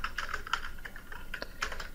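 Quick, light clicks of typing on a computer keyboard, a short burst of a dozen or so keystrokes at an even pace, close and clear.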